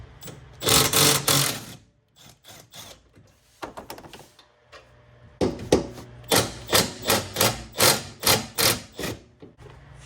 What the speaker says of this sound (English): go ahead and loosen and remove this bolt